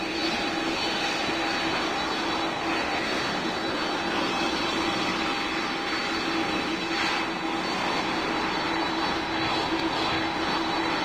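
An airplane engine in flight produces a steady, broad roar with a faint whine, unbroken and evenly loud throughout with no speech.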